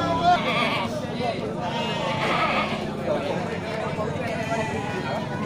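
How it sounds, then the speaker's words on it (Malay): Large male goats and sheep bleat repeatedly at a livestock sale ahead of Maulid, loud and close, mixed with people talking nearby. "Ya, kambing jantan besar ya."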